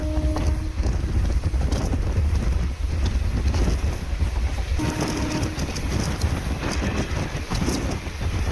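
The Kanyakumari Superfast Express, running from Chennai Egmore to Kanyakumari, rumbles past loud and close, a continuous roar of wagons with rhythmic clatter and wind buffeting throughout.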